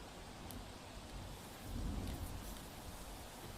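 A steady, dense hiss of heavy rain pours down in Surendranagar, Gujarat, swelling briefly louder in the middle, with no voices.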